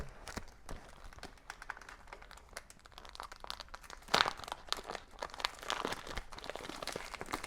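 A thin metallic foil sheet is tugged out of a pack of ten, giving off irregular crinkles and crisp crunches that swell in the middle, close up and with no talking.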